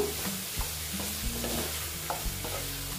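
Steady frying sizzle of soybean chunks with egg in a pan, a stirring utensil scraping and clinking now and then, close and continuous, no voices.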